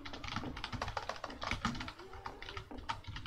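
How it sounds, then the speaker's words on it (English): Rapid, uneven typing on a computer keyboard in a Half-Life 2 Synergy co-op session, with dense clicky keystrokes continuing steadily for a few seconds at close range. "What are you typing?"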